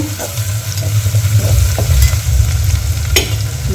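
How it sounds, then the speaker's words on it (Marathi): Onions and ginger-garlic paste stir-fried in a pan for spiced rice, a steady close sizzle and frying hiss with scraping of a spoon across the pan and occasional sharp clinks, no voices. "याच्यामध्ये आता आपण अद्रक लसूणची पेस्ट टाकून द्यायची आहे यालाही परतवायचं आहे"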